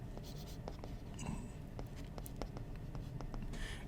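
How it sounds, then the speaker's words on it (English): Stylus writing on an iPad screen, a soft steady scratching and tapping of strokes running continuously at close range under low background noise. "I can write something here, for example, iPad annotation"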